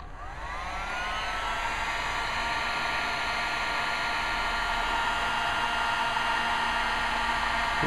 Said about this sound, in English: I'm just going to use my heat gun on its high setting